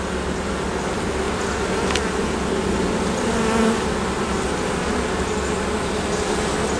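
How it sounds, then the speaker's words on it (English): Dense, steady buzzing of many honeybees swarming close by inside an opened beehive, a constant drone with no talking. "There are a ton of bees in here."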